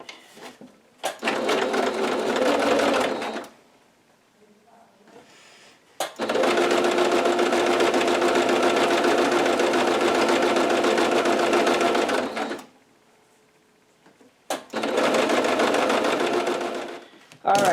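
Sewing machine running in three long stitching bursts along a strip of fabric for a vintage-style apron, steady and close, with quiet pauses between runs and no talk.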